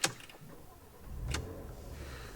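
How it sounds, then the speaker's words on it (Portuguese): A Porsche Macan S engine is started with the key: a quiet click, then a short cranking whir and a low idle settling in, faint and close, with no talk. "A ignição tem que ser dada da maneira correta, ou seja, sua chave na mão esquerda, você vira aqui."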